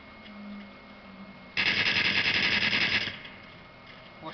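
A quick, evenly spaced burst of carbine shots in a third-person video game, a loud rattle lasting about a second and a half that cuts in abruptly and stops, with a quiet background before and after.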